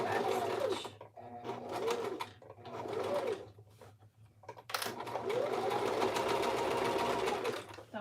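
A sewing machine stitches a fabric headband in loud, close whirring runs, pausing twice in the middle before starting again.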